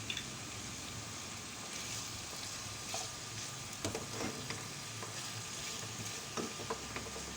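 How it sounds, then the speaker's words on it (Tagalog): Garlic and onion fry in a pan for a beef steak dish, a steady soft sizzle with occasional crackles and pops scattered through, quiet and close, no talking. "At ipiprito din natin yung bawang. At saka yung sibuyas."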